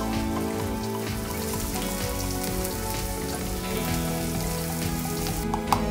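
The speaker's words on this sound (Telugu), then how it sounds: "ఆనియన్స్ ఫ్రై అవుతున్నాయి కదా," Onions fry steadily in a pan with green chillies, mint and coriander, giving a dense, loud, continuous sizzle with a faint crackle throughout.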